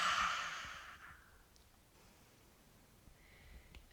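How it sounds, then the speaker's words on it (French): A single lion's breath exhalation during a yoga session, a forceful breathy sigh at the start that trails off into quiet room tone. "Expiration, respiration du lion."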